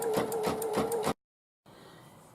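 An embroidery machine stitches a hooded towel, giving a close, steady rapid whir with a rhythmic pulse for about a second. It stops abruptly, and a quieter background hum follows.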